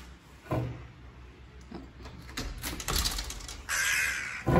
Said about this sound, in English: Got some crows living in our building